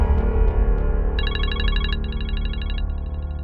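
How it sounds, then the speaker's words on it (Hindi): A phone ringtone chimes in repeating bursts of bright electronic tones over a steady low hum, fairly loud and close. "लो, तुम्हारे अब्बा के फोन पर कॉल आ गई।"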